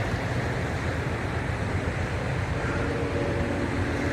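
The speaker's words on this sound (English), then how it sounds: "some of the rush of the Conneaut Creek" Rushing water of Conneaut Creek at night, a steady broadband roar that fills the whole stretch without pause, with no voices over it.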